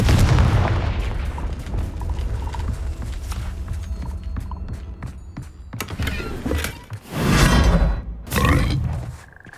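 A fire spell explodes in the video game Hogwarts Legacy, with a deep booming blast followed by crackling debris and rumbling bursts, loud and close, swelling again toward the end.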